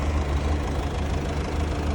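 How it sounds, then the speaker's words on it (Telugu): A Ford car engine idling after a carbon-cleaning additive treatment, a steady, close, low rumble with a faint knocking texture and no voices. "ఒకసారి బయటకు వచ్చి ఇంజన్ దగ్గరికి వచ్చి సౌండ్ విను, తెలుస్తుంది."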